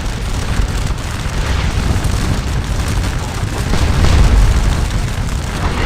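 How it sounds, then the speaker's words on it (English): Artillery shell fire from the Grand Battery in the video game Scourge of War: Waterloo, a dense continuous rumble of distant booms blending into a steady roar, loud and without talk. "they are taking heavy fire from our troops in the sunken lane, as well as heavy shell fire from the Grand Battery"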